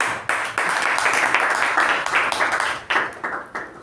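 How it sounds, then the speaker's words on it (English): Audience applause at a Toastmasters club meeting, a steady wash of many hands clapping at close range that holds for several seconds, then thins out toward the end. "let's give one more round of applause"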